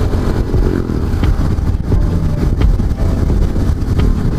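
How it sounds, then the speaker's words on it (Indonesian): A motorcycle cruises at moderate speed along a quiet, nearly empty road on a commute, its steady engine drone mixed with heavy wind rush against the microphone, continuous and close throughout. "Ini gua juga bawa motornya gak terlalu cepat, kecepatan yang sedang"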